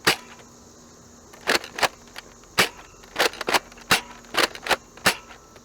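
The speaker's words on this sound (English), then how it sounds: "we will take a few shots level and a few shots angled up" An Adventure Force Frantic Fury toy blaster fires about a dozen sharp, snappy shots outdoors, arriving in irregular bursts and pairs, each a loud crisp crack with a short tail and quiet gaps between.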